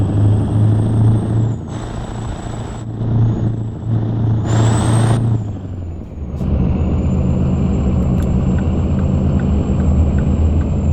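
A heavy truck in American Truck Simulator with a full fuel tank rumbles steadily up close, with hissing air brake releases and a high whine, and no talking.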